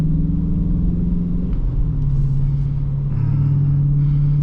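A Dodge Challenger RT cruises in sport mode, its engine giving a steady, deep rumble heard from inside the car, with a slight rise in pitch partway through.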